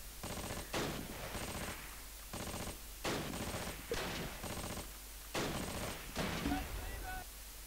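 Gunfire in the Close Combat video game, repeated rapid bursts of automatic fire in rhythmic clusters with scattered single shots, fairly close, with a voice talking over it.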